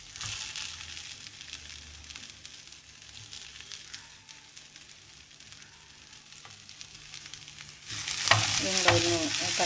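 Tomatoes tipped into softened onions for a Kerala-style white chickpea curry, frying steadily in the pan with a soft continuous sizzle and scraping stirs, growing louder and brighter near the end as the tomatoes hit the oil.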